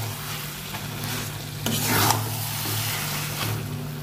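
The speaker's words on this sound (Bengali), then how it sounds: "ভালো করে চিকেনটা কষিয়ে নিয়ে মশলার সাথে" Marinated chicken sizzles steadily in hot oil with spice masala in a Bengali home kitchen, while a spoon stirs and scrapes against the pan, the frying loud and continuous throughout with no talking.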